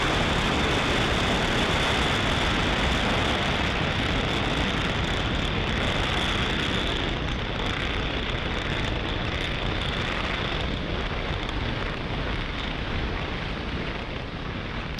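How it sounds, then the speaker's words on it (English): A SpaceX Falcon 9 rocket lifts off from pad 40 on Merlin engines, making a loud, unbroken roar that fills the whole stretch with dense broadband rumble and crackle, with no talking. "Falcon 9 has successfully lifted off from pad 40"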